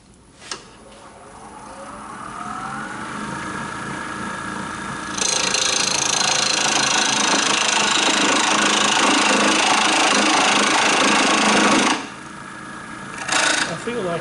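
A wood lathe turning a duck, a gouge cutting the spinning wood: the motor spins up with a rising whine, then a loud, steady rasping cut lasts several seconds before the tool is lifted away.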